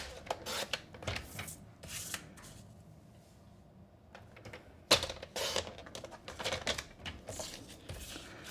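Cardstock being cut to 5 1/4 inches for a mini gift card clutch, heard as close rasping, clicking trimmer strokes in quick bursts with a brief quiet pause and one sharp snap midway.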